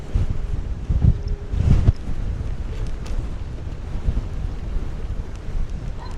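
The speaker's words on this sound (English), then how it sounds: "going to be pretty windy for that little guy" Strong wind gusts buffet the microphone at Belmont Shore Pier in Long Beach, a steady roar with heavy low rumbling bursts near the start, apparently with surf beneath.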